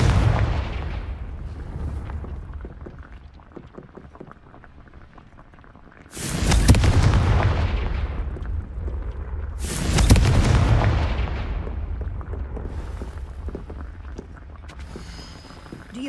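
Two big blasting-spell explosions in Hogwarts Legacy, each a sudden loud boom with a roaring tail that fades over a couple of seconds, set against quieter game ambience and some earlier faint clicks.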